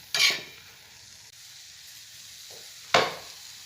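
Tandulsa bhaji, a leafy vegetable dish, stirred in a frying pan, giving two short scraping sizzles about three seconds apart over a faint steady frying hiss, with no voices.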